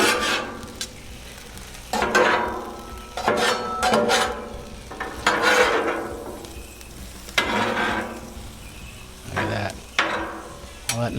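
Corn with butter sizzling on a Blackstone flat-top griddle, steady close frying hiss with repeated swells as a spatula scrapes and turns the kernels.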